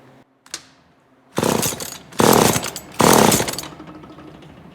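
Husqvarna 136 chainsaw with a newly installed carburetor being tuned: a brief pull-start rasp, then three loud, close bursts of high revving engine, each dropping back toward idle between throttle blips.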